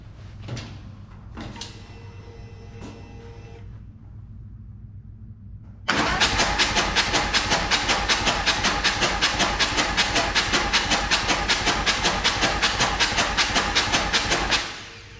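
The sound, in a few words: Harley 131ci Stage IV engine cranking to build oil pressure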